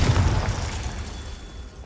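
A low, rumbling blast from the Confringo spell in Hogwarts Legacy, starting strong and decaying slowly over a couple of seconds with no speech.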